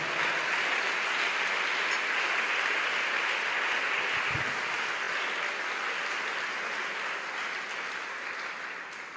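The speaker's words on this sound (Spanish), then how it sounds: "Aplauda fuerte el nombre de Jesús en esta hora" A large church congregation applauds loudly and steadily, a dense wash of clapping that holds throughout and tapers slightly near the end.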